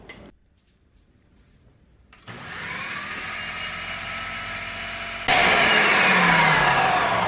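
A kitchen mixer whips cream toward butter, shaking more than usual as it works: a loud, steady motor drone that jumps to a higher, harsher pitch partway through, with no speech.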